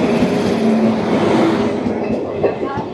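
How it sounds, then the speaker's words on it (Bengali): Lalgola–Kolkata Hazarduari Express arrives at Berhampore Court station hauled by a WAG9 electric locomotive, a loud close rumble of rolling coaches with wheel squeal and a steady tone, gradually easing. "চলে আসছে train number 13-114, Lalgola Kolkata Hazarduari express with WAG9"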